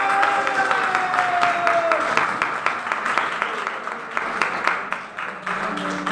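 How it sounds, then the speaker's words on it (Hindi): An audience applauding loudly: many hands clapping in a dense, continuous patter that runs steadily throughout, with a voice and crowd noise mixed under the clapping. "तो बजाओ जोरदार ताली एक बार।"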